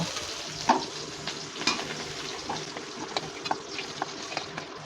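Fish fries in oil in a wok with a steady fizzing sizzle, broken by scattered clicks and scrapes of stirring, moderately close and with no talk.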